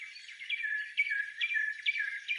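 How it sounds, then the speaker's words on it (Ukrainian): Small birds sing in quick, high chirping phrases that repeat over and over, clear against a quiet background. "Це спів птахів."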